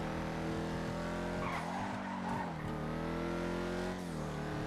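Vapid Dominator GTX tires skidding and squealing in a racing video game, a sustained loud screech over a steady droning engine note that dips and rises through a turn.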